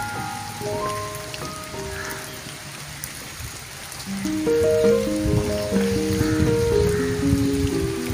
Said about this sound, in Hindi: बरसात में तकरीबन ये दूसरी बारिश है जो इतनी शिद्दत से हुई है।